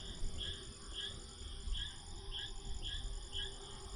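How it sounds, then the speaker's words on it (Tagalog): Crickets chirp in regular, repeated pulses over a low outdoor rumble at a mountain campsite in Tuba, Benguet, steady and moderately close, with no voices. "yung mga kuliglig or mga insekto."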